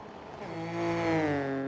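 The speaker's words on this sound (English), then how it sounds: "Who needs music when you have the sound of the engine?" A rally car engine in an EA WRC video game replay rises in pitch and volume as it revs and passes, a clear harmonic drone heard alone without talk.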